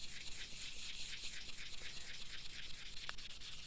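Quiet, rhythmic wet sanding of a painted Seat 600 gauge dial with sandpaper, even back-and-forth strokes repeating steadily at close range.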